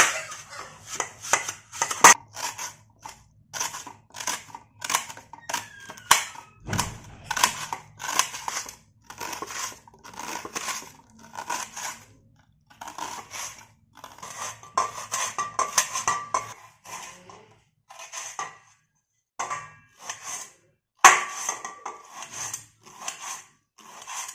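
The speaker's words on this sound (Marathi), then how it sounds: "दोन वैशाली टमाटे दोन बारीक कापून घ्यायचं आहे आता ही बारीक कापून घेऊ आपण" Knife finely chopping tomatoes on a board, a steady run of sharp, close, rapid chops with short pauses between bursts, no talking over it.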